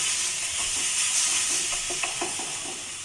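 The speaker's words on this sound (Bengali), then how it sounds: "এবার নেড়ে নেড়ে এটাকে আঠালো করে নেব" A papaya mixture is stirred in a pan until it turns sticky, giving a steady soft sizzle with a scattering of scraping and stirring strokes close by, no voices.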